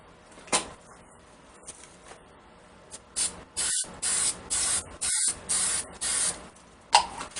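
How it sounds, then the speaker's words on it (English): An aerosol spray can is sprayed onto the backside of a mask piece in a series of sharp hissing bursts, several lasting about half a second each, with a few clicks and knocks between them, close and loud. "Let me spray the backside and I'll fold it over."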